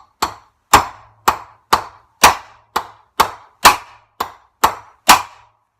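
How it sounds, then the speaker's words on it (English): Stainless steel rod whacking an aluminum Honda Scrambler motorcycle fender: eleven sharp, loud metallic strikes in a steady rhythm about half a second apart, each ringing briefly, close up with no talk. "take this stainless steel rod and just going to whack it a bunch of times"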